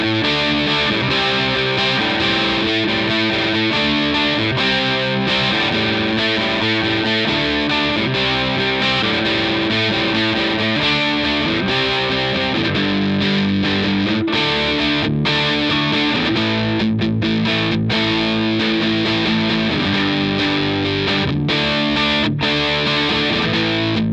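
Electric guitar played through a Vox AC30C2 amp with punky, distorted push tones: driven chords strummed continuously and loudly, with sustained crunchy riffing and brief chopped breaks, no talking.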